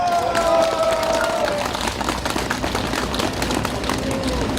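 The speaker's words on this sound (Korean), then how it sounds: "제가 잠깐 쉴 동안에 박수 한번 크게 칩시다." A large crowd at a street rally against a labor union claps steadily in dense, continuous applause, loud and close, with scattered shouts and voices mixed in.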